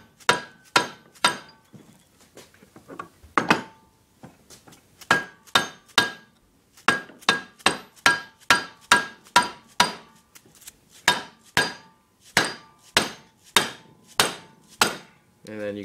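A hammer taps sharply again and again, bright metallic knocks in quick bursts with brief pauses between, close up and with no talking.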